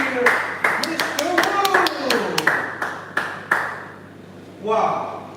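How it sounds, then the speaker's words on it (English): A small group claps for an engineer beside a laser marking and engraving machine, a brief patter of separate hand claps over steady machine hum, with a voice talking through it. "Let's give a hand of applause for our engineer"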